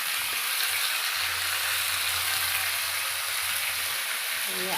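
Spices fried in a pan with salt and turmeric, a steady broadband sizzle throughout with a low hum beneath and light stirring scrapes, no speech.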